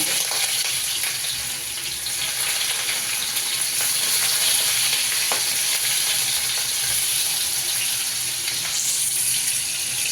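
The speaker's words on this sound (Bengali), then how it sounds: "এই আদা আর রসুন কুচিটা দিয়ে দিলাম।" Chopped ginger and garlic fry in refined oil with a continuous, crackling sizzle that stays steady and close for the whole stretch, with occasional faint stirring.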